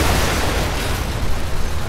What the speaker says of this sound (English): A lot of car explosion.